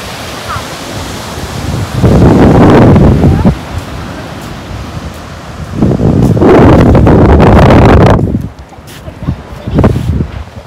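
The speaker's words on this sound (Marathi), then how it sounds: "आणि हा समुद्र" Sea waves at Bhogave Beach roll in and crash in two long loud surges, with a shorter burst at the end, wind buffeting the microphone between them.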